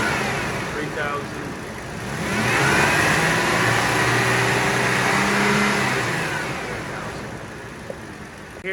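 A second-generation Toyota Tacoma engine is held at raised revs, the steady hum climbing as it moves toward the 3,000–4,000 RPM range and then easing off, with a person's voice faintly present.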